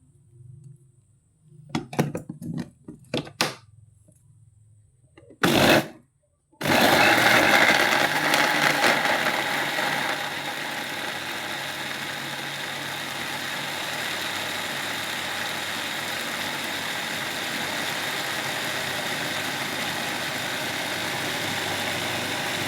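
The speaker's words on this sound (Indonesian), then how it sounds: "Nah, kita blender." Tomatoes are blended in a kitchen blender after a few short clatters and a brief burst, then a loud, continuous motor whir that runs steadily for the remainder.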